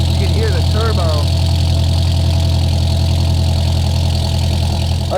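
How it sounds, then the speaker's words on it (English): A turbocharged Porsche 718 Cayman GT4 idles loudly and steadily up close, its deep even drone carrying a high whine, while people talk briefly over it. "You can hear the turbo."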